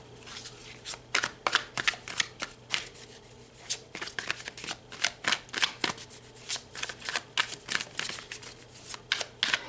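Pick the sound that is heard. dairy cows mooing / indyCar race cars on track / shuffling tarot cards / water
shuffling tarot cards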